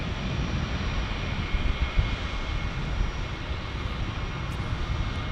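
A United Airlines airliner at San Diego International Airport gives off a steady, loud roar of jet engines with wind buffeting, continuous throughout and with no talking.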